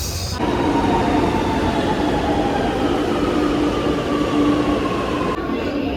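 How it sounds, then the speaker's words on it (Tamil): A metro train arriving at Koyambedu station in Chennai gives a loud, steady rumble with faint whining tones throughout, heard from close by on the platform. "கோயம்பேடு மெட்ரோ வந்தாச்சு"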